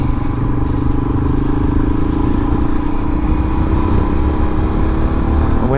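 A Harley motorcycle engine fitted with an upgraded cam and intake rumbles loudly and steadily from start to finish, a deep continuous idle with no voices over it.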